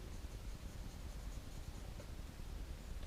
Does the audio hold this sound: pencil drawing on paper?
yes